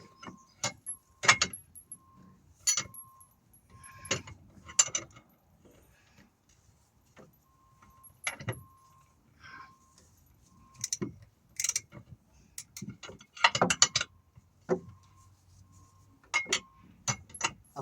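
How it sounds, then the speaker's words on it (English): Socket ratchet tightening the rear shock absorber bolt on a Peugeot 205, heard as close, scattered metallic clicks and clinks in short bursts with quiet pauses between. "I'm just going to tighten that bolt up."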